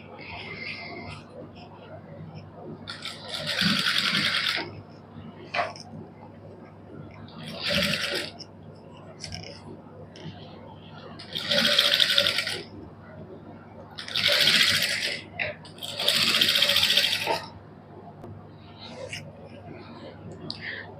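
A sewing machine runs a loose basting seam with a long stitch on plain fabric for a lace-trimmed neckline, stitching in several short whirring bursts between pauses, and quiet talk can be heard in the room.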